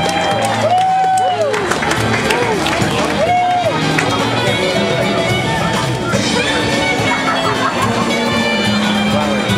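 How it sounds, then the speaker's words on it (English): Audience applause and cheering at the 2011 Nisei Week cosplay contest, a loud, steady crowd sound over busy background chatter, with an announcer's voice at the start. "One more round of applause, please."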